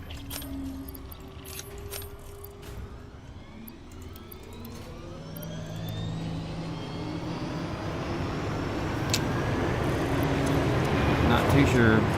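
A drone flies in the video game Satisfactory, its engine whine sliding steadily in pitch and swelling louder as it approaches, with other game sounds and jingling tones around it.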